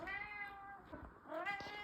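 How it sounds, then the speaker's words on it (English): Indoor cats meow close by in two drawn-out, wavering calls, one after the other, with no talk. "These kitties."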